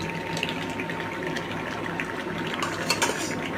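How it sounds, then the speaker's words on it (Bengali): Fish is added to a simmering curry in a pan with oil and spices, a continuous sizzle and bubbling with occasional utensil clinks, close and steady. "এই যে এখন মাছ দিয়ে দিলাম"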